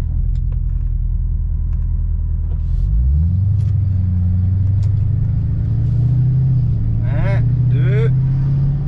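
Ford Mustang with a 4.6L V8 and an automatic gearbox idles with a deep rumble, then pulls away on a road test, the engine note rising steadily, with brief voices.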